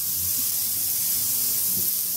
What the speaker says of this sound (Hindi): इसी कढ़ाई में हम मावा को भून लेंगे हल्का सा।